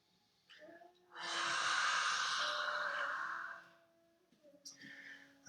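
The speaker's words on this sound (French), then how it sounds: "Prends une respiration complète et expire par la bouche en tirant la langue" A long, forceful breath exhaled through the mouth with the tongue out during a yoga practice, a close, breathy roar lasting nearly three seconds, preceded and followed by quieter breathing.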